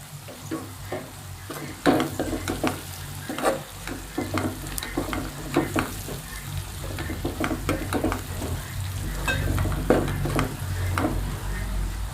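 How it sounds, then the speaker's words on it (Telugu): Spices frying in oil in a pan for gongura chicken, a continuous close sizzle with repeated spatula scrapes and stirring clatters, no talking. "ఆయిల్లో వేగనిద్దామండి చూడండి ఇలా వేగిపోయాయి కదండి"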